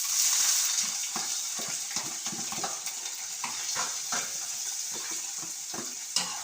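Seasoning for Jamaican-style tin mackerel fries in a pan, giving a steady close sizzle broken by repeated scraping, stirring clicks and a final sharp clack.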